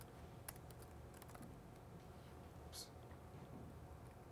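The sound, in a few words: typing on a computer keyboard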